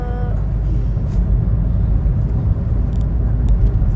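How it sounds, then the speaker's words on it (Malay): Busy car traffic in the city streets of Ipoh, heard as a loud, continuous low rumble of passing vehicles from close by, steady throughout with faint higher noises on top. "Banyaklah kereta Ini tak macam manjung"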